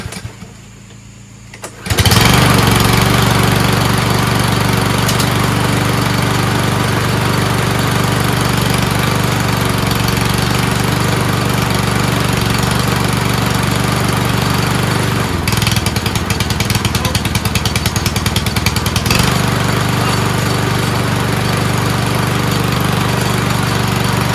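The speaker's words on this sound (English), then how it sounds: "Engine runs well." A swapped-in engine on a rebuilt lawn mower, choked and with the brake mechanism clamped, pulls into a loud steady idle after a brief quiet start and drones on close by without a break.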